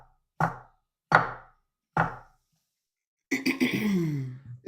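A knife chops vegetables into matchsticks on a cutting board: three sharp, evenly spaced strikes close by, followed by a rough throat-clearing vocal noise.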